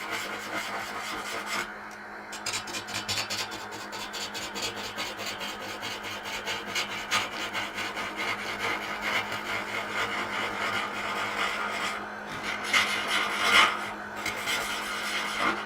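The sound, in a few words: parting tool cutting wood on a lathe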